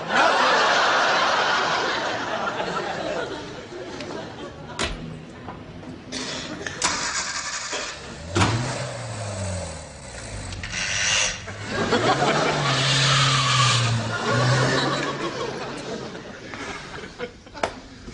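A car engine turns over and starts up, then revs and pulls away, the rising and falling engine tone audible under a lively laughing audience and mixed room noise throughout.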